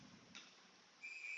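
A referee's whistle at a girls' high school ice hockey game, a bright sustained tone rising in loudness at the end, with a shorter fainter burst earlier over quiet arena ambience.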